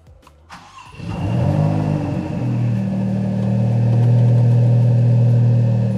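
After a few faint clicks, a Maserati MC20's 3.0-litre V6 fires up with a sudden roar and settles into a loud, steady high idle that climbs slightly in pitch as it holds.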